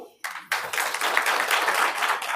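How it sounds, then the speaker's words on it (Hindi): An audience at a Brahma Kumaris talk in Garhi Birbal, Haryana breaks into applause after a short silence, the sustained crowd clapping steady and fairly close for the whole stretch. "ताली तो बजाओ"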